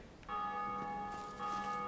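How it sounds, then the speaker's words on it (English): Church bells ringing in the Dark Souls video game, a sustained tonal peal heard faintly at a distance, swelling again near the end. "somebody just rang the bells by the sound of it"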